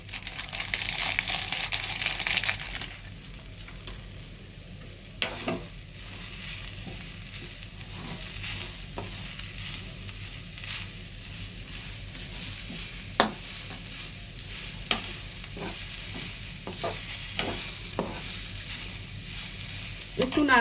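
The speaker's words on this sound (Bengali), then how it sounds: "একটু নাড়াচাড়া করেছি" A veg roll filling gets stirred in a frying pan under a steady sizzle, with a louder hiss at the start and repeated scraping, rustling strokes of a spatula running throughout.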